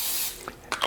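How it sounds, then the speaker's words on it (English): A short hiss of cooking spray into a pan, a brief close burst trailing off, followed by a couple of quick faint spritzes. "It starts with a little more cooking spray."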